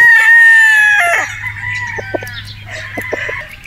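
A Boston Roundhead rooster crows once, loud and close, its long call fading into a few short clucks.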